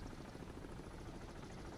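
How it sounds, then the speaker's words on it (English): A helicopter flying nearby in a submarine video game: a faint, steady rotor rumble and whir, constant and broadband, heard alone without talk. "That's a helicopter."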